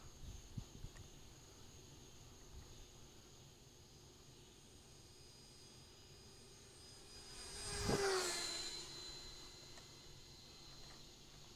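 A model airplane's small engine whines faintly at night, swelling as it passes close overhead around the middle, then fading away into light background noise.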